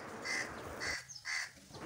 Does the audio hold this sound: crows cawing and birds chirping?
yes